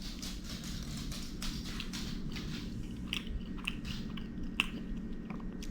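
Close, steady chewing and biting of smoked Cornish hen cooked on a Green Mountain Grills Daniel Boone Prime Plus pellet grill, soft wet crunches over a low background hum, with no talk.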